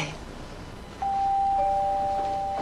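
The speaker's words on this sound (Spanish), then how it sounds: "¿Ese es el timbre?" A doorbell rings with a clear, sustained two-tone chime that starts suddenly after a low background and rings on steadily and fairly loud, with no speech over it.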